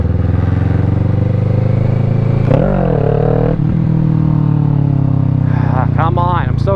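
A motorcycle engine runs loud and close during wheelie practice, a steady low drone that revs up sharply in the middle, then rises again in quick stuttering bursts near the end.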